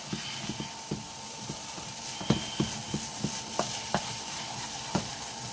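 Egg fried rice with a handful of chopped coriander being stirred through in a hot pan, steady sizzle with repeated close scraping clicks of a utensil against the pan at an irregular rhythm.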